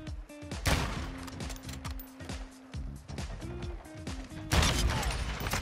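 Repeated shotgun blasts from a platinum-camo shotgun with a 5-round magazine in a first-person shooter, sharp loud bursts spaced irregularly with a heavier volley near the end, mixed with game effects and no talk.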